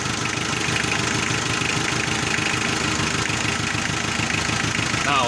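A Mitsubishi 4D56 diesel engine idles at raised RPM, a steady, loud, close rumble with a fast, even clatter that runs unbroken throughout with no voices.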